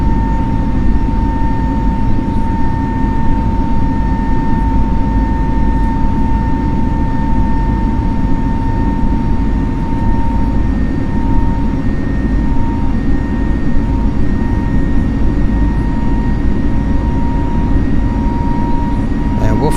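Steady, loud roar of Airbus A32NX jet engines at climb thrust in Microsoft Flight Simulator, a constant broadband rumble with a faint high whine running evenly for twenty seconds.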